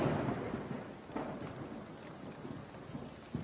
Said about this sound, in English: the drizzle had become a hard rain.